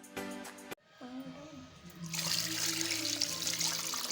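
Water being poured into a cooking pot with bones for bone stock, first a short splash, then a brief gurgle, and finally a sustained louder pouring rush close by.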